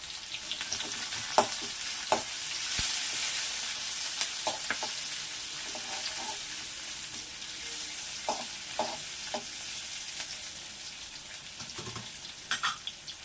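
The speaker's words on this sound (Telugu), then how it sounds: "ఆనియన్స్ బాగా బ్రౌన్ కలర్ రావాలండి. మధ్య మధ్యలో ఒకసారి కలపాలండి." Onions fry in a pan with mustard seeds and cumin, a steady broadband sizzle with occasional scraping stirs and brief clinks. A faint watery trickle runs at moments, and no one speaks.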